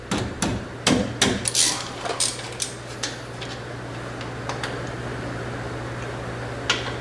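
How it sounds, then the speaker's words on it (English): Impact wrench with a socket working in a cramped spot during a wheel bearing replacement on a 2009-2014 Ford F-150; loud, close rattling bursts fill the first few seconds, then give way to a steady low hum with sparse clicks. "It's a little tighter in here for an impact wrench, which is what I'm using"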